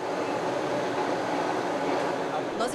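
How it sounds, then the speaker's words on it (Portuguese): Inside the driver's cab of a Federal District metro train in motion: a steady, loud roar of wheels and motors that fills the whole clip, with no clear breaks. "Nós estamos aqui dentro de uma cabine de um dos trens de metrô do Distrito Federal."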